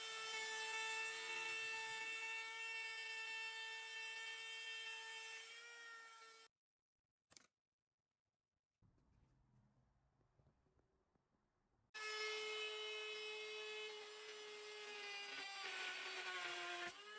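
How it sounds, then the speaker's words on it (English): A bandsaw cuts through a wooden base, a loud steady whining drone with strong harmonics, then cuts out to near silence with a faint rustle before the saw starts again at full volume, close by with no talking. "So off to my bandsaw we go."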